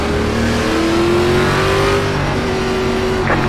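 Race car engines of Chevrolet Impala stock cars in an ARCA online racing video game, a loud continuous high drone with pitch slowly rising, engines revving steadily throughout.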